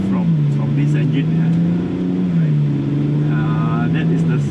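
BMW 335i twin-turbo straight-six engine droning steadily with a slight rise and fall in pitch, heard from inside the car beneath a person talking.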